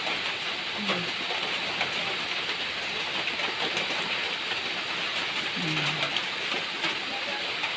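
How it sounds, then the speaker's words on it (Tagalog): Steady, dense hiss of rain pouring down fills the whole stretch, with a couple of faint brief tones and a voice murmuring underneath. "Ulan na naman po."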